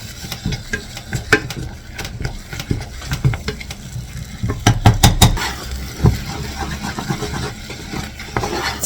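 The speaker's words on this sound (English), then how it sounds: "you can come here and use one of the potato mashers and just mash it in addition to frying" A potato masher pushes canned beans around a hot frying pan, giving soft irregular scrapes and knocks over a faint sizzle, close and moderately loud, with a few sharper clanks of metal on the pan.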